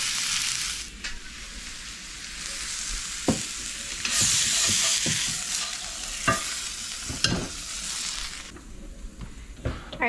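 Beef browns in a hot pan with a loud, continuous sizzle broken by sharp utensil scrapes and clatters as it is stirred and turned, with no talking.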